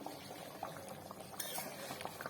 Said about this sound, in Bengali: দিচ্ছি কিছুক্ষণ ফুটিয়ে নেবো ডিম কষা